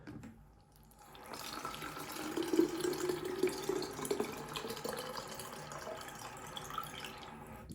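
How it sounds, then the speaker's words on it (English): Cold water runs steadily from a tap into a bidet container, filling it to the top, a continuous close splashing rush that swells after the first second and holds without speech. "So you fill that right to the very top. Don't mind if it overflows."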